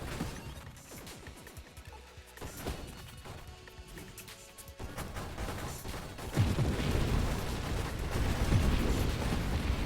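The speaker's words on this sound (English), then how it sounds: "I just drifted into the explosion for no reason" An explosion in the space shooter game Nova Drift. Crashing, crunching bursts build into a dense, loud roar that swells and holds through the second half.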